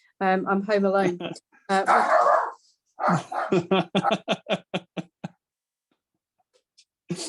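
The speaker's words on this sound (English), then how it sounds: "Apologise for the barking." A dog barks in sharp bursts near the microphone, mixed in with a person talking over it.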